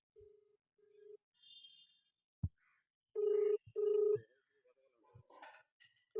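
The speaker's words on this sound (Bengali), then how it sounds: "রিং হচ্ছে দেখুন" Ringback tone of an outgoing phone call: pulsed tone bursts, first faint, then loud and close, separated by short clicks and quiet gaps.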